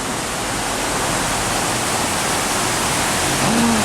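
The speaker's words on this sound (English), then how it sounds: "some really bright, clear flowing water." Clear river water flowing steadily along the Rio Agualate near Grecia, Costa Rica: a close, continuous broadband rush with no pauses, staying loud and even throughout and swelling slightly near the end.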